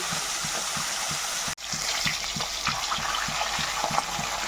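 Hilsa fish tails frying in hot oil in a pan, a steady close sizzle with a regular bubbling pulse and a brief dropout partway through.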